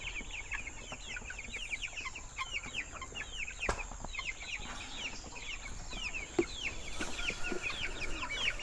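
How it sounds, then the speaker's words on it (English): Several chickens cluck and chatter continuously at a moderate distance, with a faint steady hum underneath. "the chickens that are sitting there"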